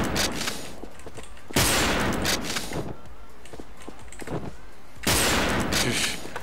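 Gunfire in a shooter video game using a Zaitsev rifle, bursts of loud, close shots in rapid clusters separated by quieter stretches of footsteps and handling, with a voice talking over parts of the action.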